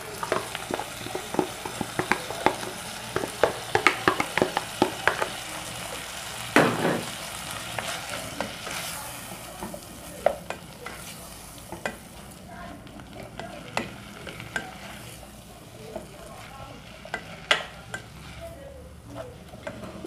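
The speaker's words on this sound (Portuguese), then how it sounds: "Vou esperar dar uma refogadinha aqui" Carrots sauté in a pan with a quiet bed of sizzle broken by frequent sharp scrapes and clacks of a utensil stirring, irregular and close, with no talking.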